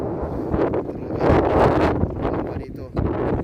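Strong, cold wind buffets the microphone with loud, rumbling gusts, rising and falling throughout.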